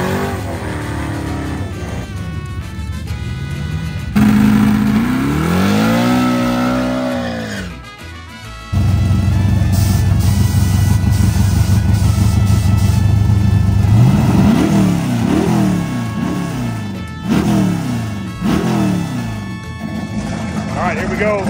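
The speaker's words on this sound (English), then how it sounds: "The final race is about to happen behind me." Twin-turbo Audi R8 and turbo, nitrous Mustang drag cars race, loud engines revving and surging with rising and falling pitch, gear changes and sharp accelerating roars up close, with a break between runs.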